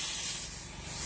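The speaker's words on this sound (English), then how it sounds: "with the air gun to get as much of the dog hair out as possible" An air gun hisses in a steady, broad blast, blowing dog hair out of a car seat during interior vehicle detailing, loud and continuous with no talking.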